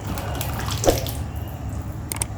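Water splashes and pours briefly into lentils, with a short burst of trickling and a few soft clinks, heard close up over a low background hum.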